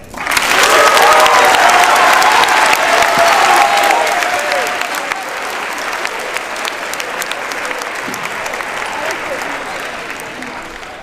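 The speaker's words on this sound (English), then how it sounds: "We give them another round of applause." A large audience at a school declamation exhibition claps loudly after a speech, dense sustained applause that swells quickly and then slowly tapers off over about eleven seconds.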